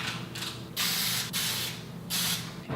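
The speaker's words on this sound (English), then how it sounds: "So now I'm gonna spray this with my brand new cooking oil." Cooking oil sprayed from a new can onto paper muffin liners: several short bursts of hissing spray, close and fairly loud, separated by brief pauses.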